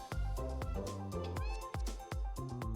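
In the Animal Shelter Simulator video game, a cat meows several times in close, clear, loud calls with short gaps, and no voices are heard.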